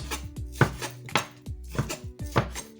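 A knife chops pork meat into chunks on a cutting board with about six firm, evenly spaced thuds, close and clear with no voices.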